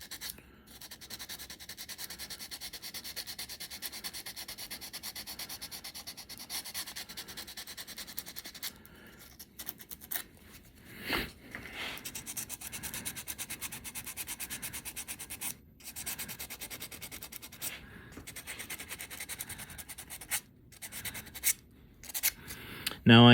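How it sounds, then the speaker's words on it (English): An axe cross wedge being hand sanded with 150 grit sandpaper, a steady close rasping rub with rhythmic back-and-forth strokes and a few short pauses, running alone without talk. "We're gonna hand sand this a little bit. This is 150 grit."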